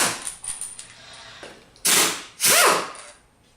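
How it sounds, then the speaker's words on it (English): An impact wrench with a 10mm hex hammers out bolts from a pump's outer gear reduction cover, a few short rattles followed by two loud, sharp bursts close by. "Use an impact wrench with a 10mm hex to remove the 8 bolts from the outer gear"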